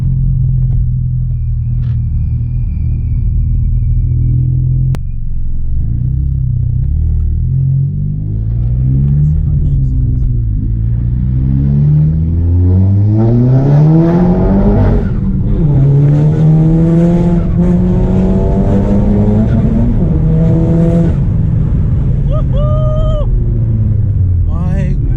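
A straight-piped Cupra's exhaust idles with a deep, loud rumble, then revs repeatedly in rising and falling sweeps, building to harsher, louder blips near the end; close and dominant.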